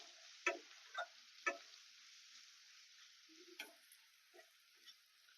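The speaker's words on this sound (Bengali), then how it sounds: "বাদামটা দিয়ে এটা একটু নেড়ে নেব" Sabudana polao with peanuts is stirred in a pan: a few soft, evenly spaced spoon taps and scrapes early on, then fainter scattered scrapes, all quiet with no voices.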